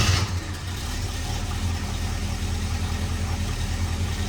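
A 1973 AMC Hornet engine idles just after a cold start following a weekend parked, a close, steady low rumbling throb after a brief louder catch at the beginning.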